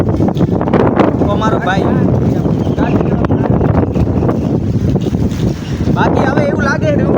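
Stormy wind sweeping through Kharoi village in Gujarat, roaring and gusting hard against the microphone in a loud, continuous rumble while someone talks throughout.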